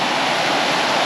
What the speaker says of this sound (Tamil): வாவ், ஸ்லைடிங் வாட்டர் ஃபால்ஸ் அங்கே தெரியுது பாருங்கள்.